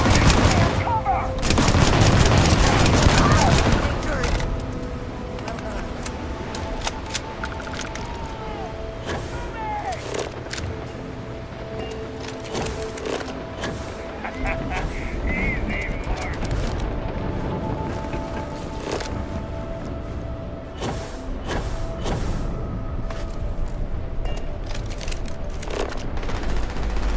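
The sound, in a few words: gunfire in a firefight in the video game Starfield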